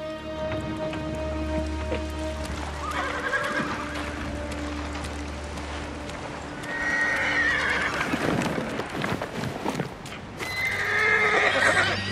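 A horse in Ghost of Tsushima snorts and whinnies twice over steady rain and soft hoof clops, with a low music drone underneath.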